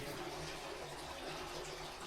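Water poured out for Hereford cattle in a farm pen, a steady continuous splashing and gurgling stream that holds at an even level throughout.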